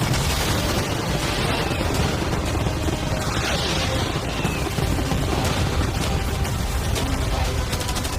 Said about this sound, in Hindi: मैं चाहता हूँ कि तुम कैनन्स, फायरवर्क्स, एरोज, कैटापल्ट्स सब कुछ एक साथ फायर करो।